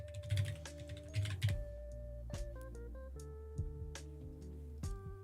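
Keystrokes on a ZSA Voyager split computer keyboard in a Linux streaming setup, a run of soft clicks and taps in an uneven rhythm, quiet and close, sitting over musical tones in the background.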